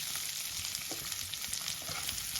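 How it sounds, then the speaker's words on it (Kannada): Mustard and cumin seeds crackling in a hot oil tempering, with garlic and onion added for a North Karnataka onion curry, a dense close sizzle and popping that holds steady throughout, no voices. "ನೋಡ್ರಿ, ಇದು ಒಗ್ಗರ್ನಿ ಚಟಪಟ ಸಿಡಕತ್ತವ"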